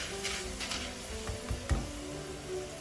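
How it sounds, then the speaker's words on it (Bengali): Snacks frying in hot oil on a rainy evening, a steady low sizzle with a few soft bumps and clinks of utensils near the pan. "এখন এগুলো তেলে ভাজতেছি।"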